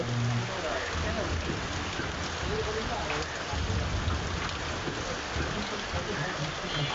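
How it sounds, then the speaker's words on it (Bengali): Heavy rain pours on Nilphamari town in a dense, steady roar of drops hitting surfaces, continuous and fairly close throughout. "তুমুল ঝড়ে বৃষ্টি হচ্ছে নীলফামারীতে"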